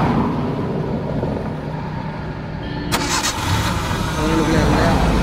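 A car engine cranks and catches during a battery test, a sharp starting burst followed by a rough steady idle, close and loud, with people talking over it.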